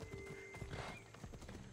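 Rapid hoofbeats clop along with a brief horse whinny in the middle, set against a dense, steady backdrop of game ambience from Assassin's Creed Odyssey.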